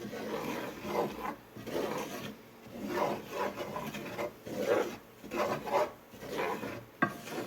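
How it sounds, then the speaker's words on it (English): A spoon stirs a roux in a pan for cheese enchiladas, making rhythmic scraping and rubbing strokes that repeat about every half second, close and fairly quiet. "I'm going to keep stirring, mix them in with the roux"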